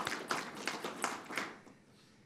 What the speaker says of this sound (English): we can applaud both of them anyway